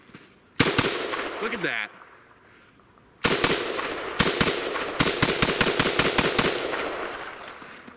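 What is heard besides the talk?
ZPAP underfolder rifle firing shots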